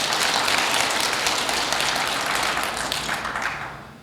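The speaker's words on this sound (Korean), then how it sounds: "우리 이분들에게 불편한 가운데 모니터 예배드리는 이분들에게 격려 박수 한번 하겠습니다" A church congregation claps in encouragement for worshippers following the service on monitors in other rooms, a dense sustained round of applause that fills the space and then tapers off near the end.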